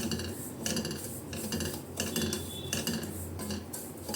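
Semolina being roasted in ghee for sapota kesari, with a spoon scraping and clinking against the pan in a steady, close stirring rhythm and no voices.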